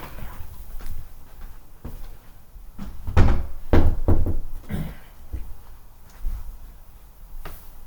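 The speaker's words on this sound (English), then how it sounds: "Let me close this door right quick." A wooden door is handled and shut indoors: scattered knocks and thuds, then a cluster of louder bangs and rattles in the middle as it closes, fading to light taps with no speech.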